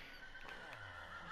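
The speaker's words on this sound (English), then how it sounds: "I don't have a saddle to make you my horse yet." Horse neighing in the Minecraft video game, a brief quiet whinny with a wavering tone lasting about a second, heard alone without speech.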